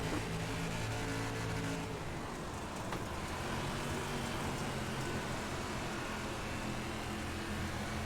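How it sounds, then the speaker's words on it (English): A limited late model race car engine at Williams Grove in iRacing drones steadily at high revs, holding a flat, buzzing note at the limit of its gear, fairly loud and unbroken with no talk. "you can really hear it topping out the gear at the end of the straightaway"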